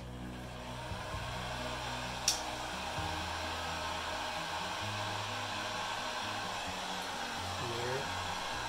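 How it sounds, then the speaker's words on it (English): A heat gun blows steadily over gold pigment in a reef-style resin tray, giving a continuous close, even airy roar with one sharp click partway through. "Slightly move my gold with my heat gun."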